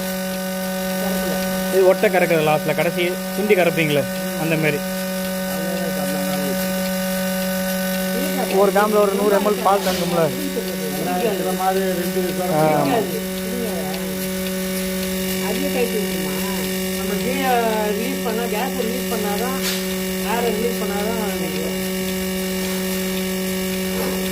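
A mini milking machine runs while milking a buffalo, giving a steady electric hum with a constant pitch throughout. People talk over it.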